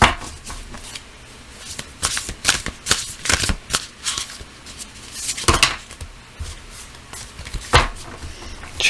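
Tarot cards being shuffled by hand, with bursts of riffling and snapping card noise and irregular flicks and taps, close and fairly loud, with no talking.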